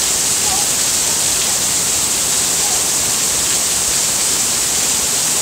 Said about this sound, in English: The gutters, the roof can't even handle it. It's pouring off of Seth's porch